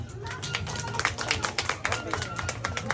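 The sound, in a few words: applause, clapping for the winner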